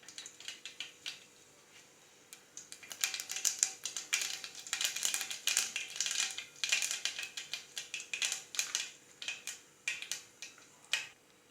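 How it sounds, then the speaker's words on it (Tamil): Mustard seeds crackle and pop in hot oil in a pan for Tamil egg kuzhambu, rapid irregular sputtering ticks that grow from sparse pops into a steady close, busy crackle with no voice. "ஆயில் காஞ்ச உடனே கடுகு போட்டுக்கலாம்."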